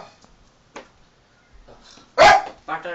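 A dog in a comedy TV sketch gives one loud, close bark after a quiet stretch, followed by a shorter yip, with faint background noise before it.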